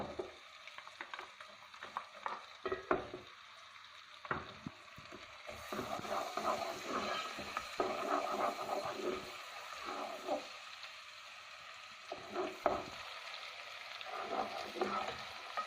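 Finely chopped onion sizzling in a pan, frying gently until soft without browning, with steady crackling and irregular stirring and scraping clicks, fairly close and moderately quiet.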